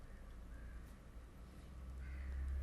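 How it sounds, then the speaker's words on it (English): Crow-like cawing from a bird outdoors, a few faint distant calls over a steady low background rumble, with no talking. "Hear the bird."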